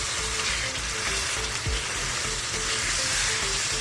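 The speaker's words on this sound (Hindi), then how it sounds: "पाँच मिनट तक हाई फ्लेम पर हमें इसकी भुनाई करनी है।" Chicken keema with peas and potatoes fries on high flame in a pan, a loud, dense, continuous sizzle with a brief scrape partway through.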